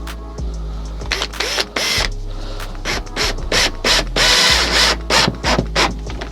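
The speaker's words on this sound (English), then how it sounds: "Put your bit back into the top of your drill, and I'm going to use silver chipboard screws, just regular 50mm chipboard screws." A drill drives 50mm silver chipboard screws into a wooden frame, with loud, close bursts of ratcheting whirs and clicks in quick irregular succession.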